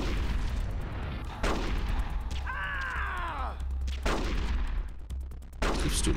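Revolver shots ring out in a Metal Gear Solid: The Twin Snakes boss fight, several loud, sharp blasts spaced a second or so apart, with a whistling ricochet in between and game music underneath.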